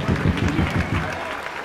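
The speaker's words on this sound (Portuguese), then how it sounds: "Uma salva de palmas aqui para Bruno Melo." Applause for Bruno Melo at the inauguration of the Torres Vedras carnival monument, a crowd clapping steadily and fairly close for under two seconds, with some voices mixed in.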